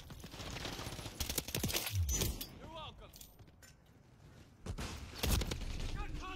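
Gunfire in a Call of Duty MW3 beta match, scattered loud gunshot bursts over busy game noise with metallic clinks and jangling, the shots spread through the clip.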